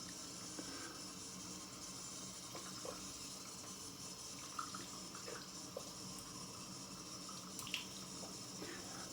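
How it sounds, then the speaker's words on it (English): Warm tap water runs steadily for a rinse while soap is washed off in a sink, a continuous broadband hiss with occasional small clinks and splashes, moderately close and without talk. "Okay, now we shall rinse. Bit of warm water first,"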